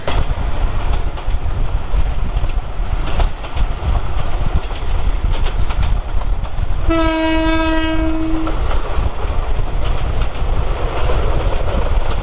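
A Tista Express passenger train rumbles steadily along the line in Bangladesh, a loud continuous roar with a long, clear horn blast sounding partway through.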